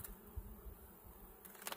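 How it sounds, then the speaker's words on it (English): A crowded, strong honey bee hive hums in a continuous low buzz, close and fairly quiet, with no talking. "There's absolutely a lot of bees in here"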